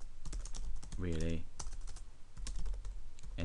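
Quick clicking keystrokes on a computer keyboard as a comment is typed into a text box, steady taps running under a man's close-up talking.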